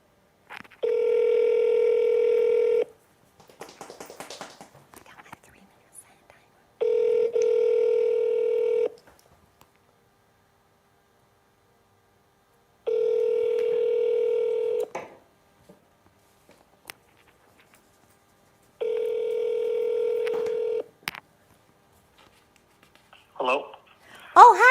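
A telephone call placed through Google Voice rings out in four long, evenly spaced electronic ring tones separated by silence, clear and close, with a brief clatter at the end.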